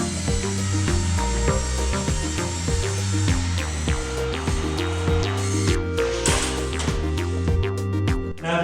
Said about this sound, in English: Don't recommend this for your first time using a circular saw